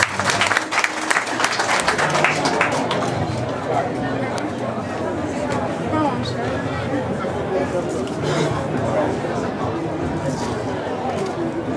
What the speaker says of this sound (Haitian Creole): On applaudit Exantus Jean-Baptiste.